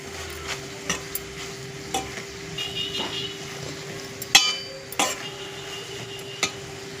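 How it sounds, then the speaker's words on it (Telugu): Spices fry in a pan for a coconut masala with chikkudukaya beans, with a soft steady sizzle broken by scattered light clinks and scrapes of a stirring spoon against the metal, close and fairly quiet. "ఇలా ఫ్రై చేసుకోవాలండి"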